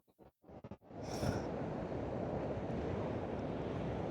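Heavy sea surf crashing onshore during a winter cod fishing session, a loud sustained roar of breaking waves building after a few short gusts of wind buffeting the microphone, continuing unbroken to the end.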